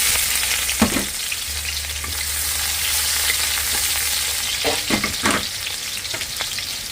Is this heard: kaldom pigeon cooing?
no